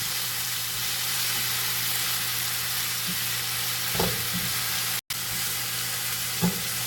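Meat with thyme fries in a pan under a steady, even sizzle, with a few soft scrapes and knocks of stirring and a brief dropout partway through.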